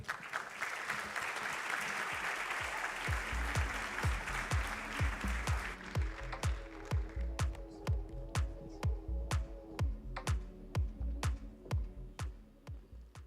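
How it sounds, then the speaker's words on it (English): Applause at an awards ceremony starts as a dense roomful of clapping and then thins out into a slow, rhythmic group clap with distinct beats, rather near and moderately loud. "Let's give him another huge round of applause."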